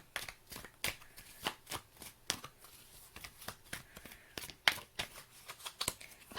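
Tarot cards are shuffled in a quiet room, a close run of quick, crisp riffles and flicks coming in irregular bursts, with no talk over them.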